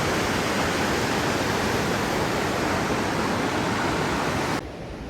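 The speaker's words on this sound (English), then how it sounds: "There's a waterfall right there." Steady, loud rushing of a waterfall, a dense continuous roar of falling water that drops off slightly near the end.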